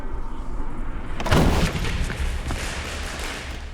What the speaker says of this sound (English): Slingshot test fire.